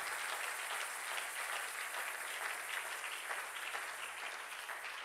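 A church congregation applauds the Lord with sustained, even clapping from many hands in a large hall, steady and moderately loud throughout, with a faint low hum underneath and no talking.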